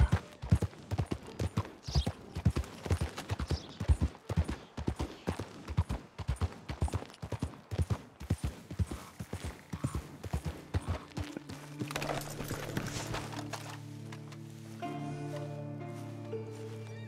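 Rhythmic clip-clop of horse hooves trotting at a steady pace in the video game Red Dead Redemption 2, then slowing as a low droning music or tone rises near the end.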